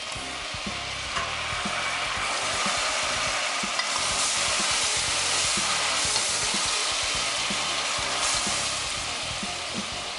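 Grated onion frying in a pan without salt, a dense, continuous sizzle with occasional stirring scrapes, close and loud, with no talking over it.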